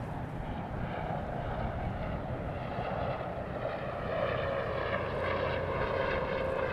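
A propeller airplane on final approach at Charlotte airport hums steadily, its engine tone rising slightly louder toward the end.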